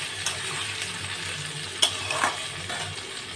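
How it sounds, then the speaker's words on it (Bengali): A spice paste of cumin, coriander, dried chilli and whole garam masala sizzles softly in a pan, with a few scraping clicks of a spoon stirring it, steady and close with no voices. "মশলাটা দিয়ে ভালো করে কষিয়ে নেব"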